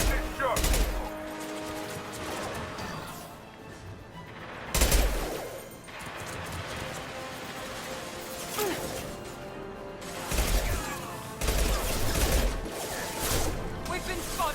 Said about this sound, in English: Firing concussion shot.